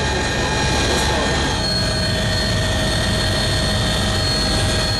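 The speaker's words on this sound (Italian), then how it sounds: "sopralluogo con l'elicottero dei Vigili del Fuoco del governatore del Veneto Luca Zaia." A fire brigade helicopter roars loudly and steadily in flight, its constant rotor and turbine drone filling every moment with no break.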